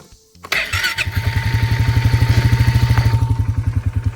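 A Kubota Sidekick utility vehicle engine cranks and catches, then settles into a steady, close, rhythmic chugging idle with a faint mechanical clatter over it.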